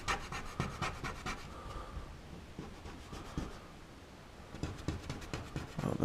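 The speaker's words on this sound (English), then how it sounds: "As you can see, you can still scratch it off." Fingernail scratching paint off a school bus window, a faint, close, irregular scraping and rubbing that comes in short repeated strokes with brief pauses.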